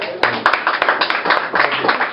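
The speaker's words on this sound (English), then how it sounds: "It's really nice when everyone applauds between short poems" An audience at a poetry reading applauds between short poems, a dense burst of close, steady clapping from many hands that carries through the whole stretch.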